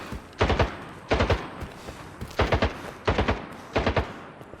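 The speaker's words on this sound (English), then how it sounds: "Who the fuck is shooting?" Bursts of automatic gunfire in the shooter game S.T.A.L.K.E.R. 2: Heart of Chornobyl, four or five short rattling volleys spaced about a second apart, moderately loud with no talking.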